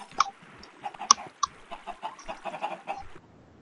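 Several video game chickens on an automated egg farm cluck and squawk in irregular bursts, fairly close, with a few sharper calls standing out before the sound fades near the end.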